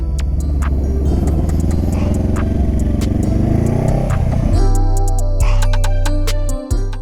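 A newly bought motorcycle engine revs up loud and close with rising pitch and mechanical clatter, then the throttle eases and the engine drops toward idle near the end.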